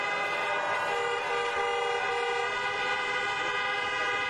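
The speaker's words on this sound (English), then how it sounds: "let's honk for the outstanding band" Steady, sustained car horns blare together in layered chords at an outdoor campaign rally, loud and continuous, like a chorus of honking horns held without pause.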